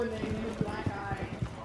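A ridden horse wearing a Pelham bit clip-clops in a steady, evenly spaced rhythm of dull hoofbeats close by.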